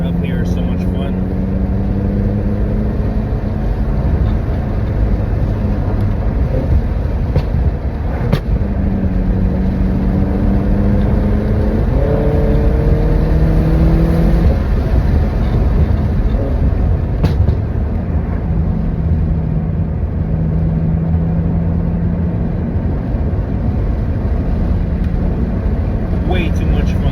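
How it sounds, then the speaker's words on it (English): A BMW M6 engine hums steadily while driving uphill on a canyon road, its pitch rising and falling through gear changes, under a constant rush of road and wind noise. "Driving this car up here is so much fun."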